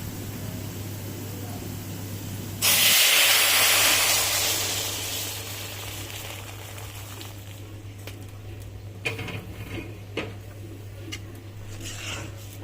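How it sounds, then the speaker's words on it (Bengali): Garlic drops into hot oil to temper dal, giving a sudden loud hiss that slowly fades over a couple of seconds, followed by quieter kitchen clatter. "আমি রসুন দিয়ে ডাল বাগার দিয়ে দিচ্ছি।"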